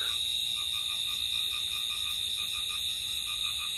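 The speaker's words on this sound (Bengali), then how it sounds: "জলাভূমিতে ডাকছে ব্যাঙ।" Frogs call from a wetland on an autumn night in rural Bangladesh, a soft pulsing series of croaks repeating steadily beneath a constant high cricket drone.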